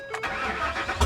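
A Chevy S10 pickup with its fuel gauge on empty cranks over on a booster pack, a steady grinding starter whir that fails to catch, with a louder burst at the very end; no one speaks.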